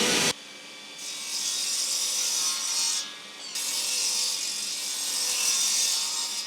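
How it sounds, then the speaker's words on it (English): A mitre saw set to 45 degrees slices through a wooden board, its motor whining loudly through two sustained cuts separated by a brief dip, with rough sawing rasp and no voices. "let's get our mitre saw to 45 degrees and let's make the cuts"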